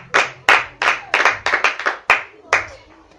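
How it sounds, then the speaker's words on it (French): A church congregation clapping, a run of about ten loud, close hand claps in an uneven rhythm, with no talking over them. "Est-ce qu'on peut acclamer pour la parole de Dieu?"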